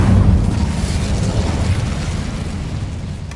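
Fiery spell burst in Hogwarts Legacy, a loud whooshing blast at the start that rolls into a sustained low roar and crackle, steady and close for a few seconds.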